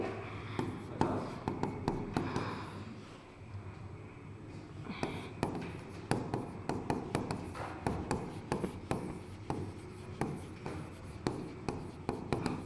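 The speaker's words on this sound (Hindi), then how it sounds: "देखो मैं लाइन लिखती हूँ आपके लिए।" Chalk or marker strokes tapping and scraping on a classroom board in a brisk, irregular rhythm, close and steady, with no talking over it.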